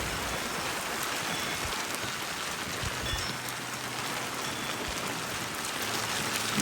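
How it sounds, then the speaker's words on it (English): Rain falls steadily outdoors in Fernley, Nevada, a dense close hiss of drops hitting surfaces, constant and fairly loud with no talking over it. "This was a much needed rain,"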